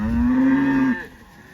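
A cow or calf bawls in one loud, close, sustained moo that falls away at the end, with no talking over it.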